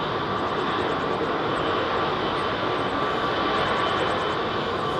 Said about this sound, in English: Bring the aircraft straight down the centre.